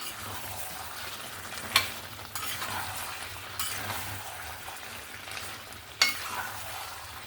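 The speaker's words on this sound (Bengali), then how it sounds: "এবার আমি আলু আর ক্যাপসিকাম যেটা ভেজে রেখেছি সেটা এখানে দিয়ে দেব দিয়ে আবারও মিক্স করে নেবো" Fried potatoes and capsicum being stirred into a chicken curry in a pan, giving a continuous close sizzle with scraping stirs and two sharp metallic clinks of the spoon, no talk.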